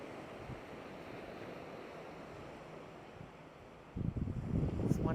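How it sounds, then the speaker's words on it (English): Ocean surf on a Florida beach washes in with a soft, steady rush, then a nearer wave breaks louder near the end, with wind brushing the microphone. "I'm just listening to these waves crash."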